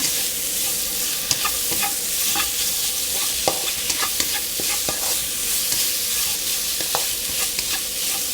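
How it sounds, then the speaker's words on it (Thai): Pork belly stir-fried in a pan for a spicy Thai stir-fry, a steady close sizzle with scattered pops and scraping stirs of the spatula, no voices. "ผัดพอให้หมูสามชั้นใกล้จะสุกนะคะ"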